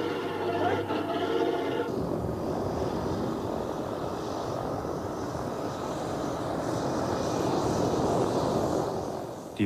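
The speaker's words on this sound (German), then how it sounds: "Ein Flugzeug des französischen Fernsehens ist gelandet" An airplane's engines drone loudly and steadily, a continuous propeller roar as the aircraft comes in to land.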